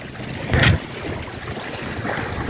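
A Hobie Tandem Island sailing kayak moves through open water with the rush of water along the hull, a brief louder splash, and wind buffeting the microphone.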